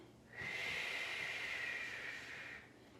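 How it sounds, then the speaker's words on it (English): Long steady exhale of deep breathing during a low-back shell stretch, a continuous breathy hiss that swells in, holds for about two seconds, then fades, close and alone. "Take a few inhale, exhales here."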